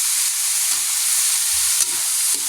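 Carrots and green beans hit sautéing ground meat with a steady, loud, close sizzle and hiss, broken by a few soft clinks of stirring, with no talk.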